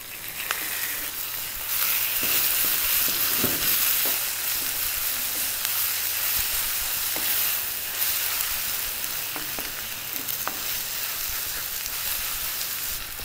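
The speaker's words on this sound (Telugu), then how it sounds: "ఇప్పుడు ఆనియన్స్ బాగా వేగిపోయి ఇందులో కట్ చేసుకున్న టమాటాలు వేసుకుందాం." Chopped tomatoes go into a pan of well-fried onions for a traditional drumstick and kabuli chana curry, giving a steady, loud sizzle and frying hiss throughout with occasional stirring scrapes and no talk.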